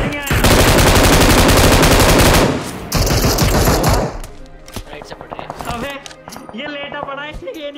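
Sustained rapid automatic gunfire in a battle royale video game, loud and dense for a couple of seconds, then sparser shots under excited voices of players talking over team chat.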